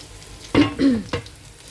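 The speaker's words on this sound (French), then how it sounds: "On va vérifier mon tagine en attendant. Voilà, il est en train de cuire tranquillement." A tagine cooking on the heat, a short burst of sizzling and bubbling with a couple of quick scraping or lid-like clacks over a quiet background; no voices.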